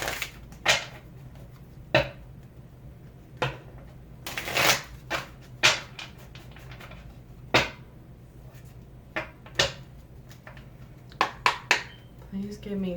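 Tarot cards shuffled for a reading, with repeated crisp riffling bursts and taps spread through the clip, some sharp and close, between stretches of quiet handling.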